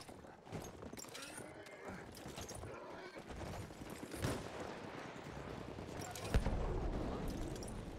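A video-game horse gallops with a rapid stream of hoof beats and a brief neigh, heard among busy game sounds with a louder thump late on.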